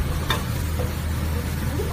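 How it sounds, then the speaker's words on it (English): A spoon works flour roux around a hot pan, with a soft continuous scraping and faint sizzle close by, one sharp clink early on, and a low steady hum underneath. "And all the flour. Keep stirring though. You must keep stirring."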